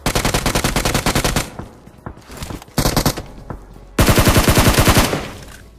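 Bursts of automatic gunfire in the PUBG battle royale game, rapid rattling volleys broken by short gaps and single shots, loud and close with no talking.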